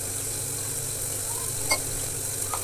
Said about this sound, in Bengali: সবজিগুলো দিয়ে ভালো করে কষে নেবো